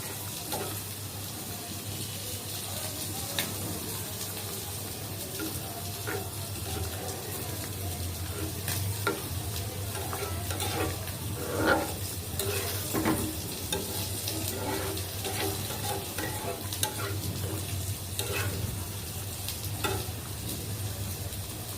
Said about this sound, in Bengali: একটু নাড়াচাড়া দিয়ে নেবো যাতে ডালটা একটু সুন্দর করে